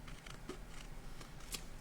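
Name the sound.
cutting out a banner shape from the panel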